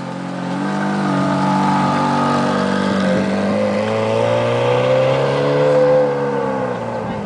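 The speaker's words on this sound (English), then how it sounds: "Johnny's going to rev it up." A Ferrari F430 engine at a Cars and Coffee meet in San Antonio revs close by, its note climbing and swelling over several seconds before easing slightly at the end.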